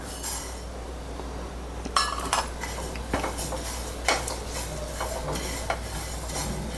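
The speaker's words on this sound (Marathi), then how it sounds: "तीळ पण हलके भाजून घ्यायचे आहेत आपल्याला" Sesame seeds are dry-roasted in a pan while being stirred, giving a continuous soft crackle and hiss with occasional light clinks of the spoon against the metal.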